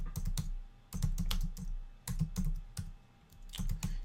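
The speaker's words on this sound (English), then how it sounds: "We'll type in internet marketing" Fingers typing on a computer keyboard in quick bursts of clicky keystrokes, separated by short pauses, close and alone with no talking.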